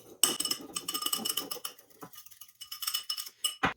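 Egg yolks whisked with cream in a bowl give fast, quiet, close clinking taps of a whisk against the bowl in uneven bursts, with a brief pause midway.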